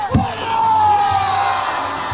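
Crowd at an Ohio Championship Wrestling Summerfest show cheering and whooping in a steady, loud wash of voices, with a rising whistle or shout cutting through and a brief thump near the start.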